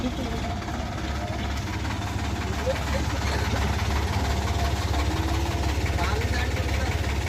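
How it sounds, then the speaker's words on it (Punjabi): A new Sonalika tractor engine idles with a steady low rumble and rhythmic knocking throughout, while people talk nearby. "ਆ ਗਿਆ ਸੋਨਾਲੀਕਾ ਨਿਊ ਟਰੈਕਟਰ"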